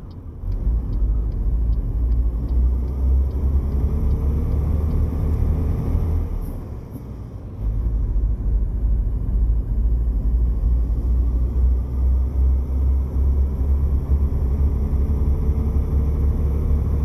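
Truck engine in American Truck Simulator, a continuous low rumbling drone that dips briefly midway before resuming steadily, with no talk.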